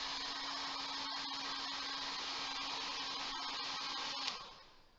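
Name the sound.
hairdryer blowing air at a wing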